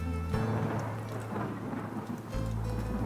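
Steady heavy rain pours down with low thunder rumbling beneath it, a dense continuous wash of downpour that swells louder toward the end, with no voices.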